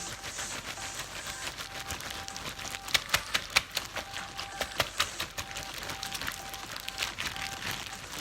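A plastic bag of low country boil dressed with hot sauce is shaken by hand, giving a steady crinkly rustle with a cluster of sharper rattling clicks through the middle.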